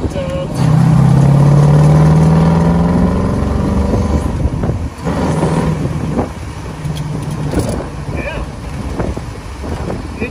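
A 1957 Corvette engine loping along at low speed in fourth gear, a loud steady drone with wind noise buffeting the cabin; a voice talks over it at times.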